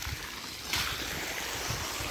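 Water blasts with force from a 1.25-inch irrigation pipe on a farm, a steady, loud, close hiss and rush that never lets up.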